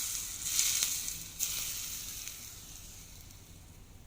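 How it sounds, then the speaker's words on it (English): Hot olive oil sizzles and crackles as it is poured onto a Chinese-style zucchini salad with spring onion and chili, a steady close hiss with a few sharper spits. "add the sizzling olive oil here."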